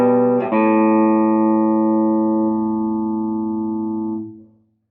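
Electric guitar playing a short section of a riff: one sustained, ringing chord struck once, held with a long even decay, then cut off near the end.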